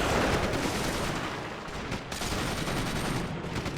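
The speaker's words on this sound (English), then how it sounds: "That is a lot of anti-tank rifles." Dense, continuous volley of anti-tank rifle and small-arms fire from a WWII strategy game's Russian counter-offensive battle, loud and unbroken with overlapping shots and no clear gaps.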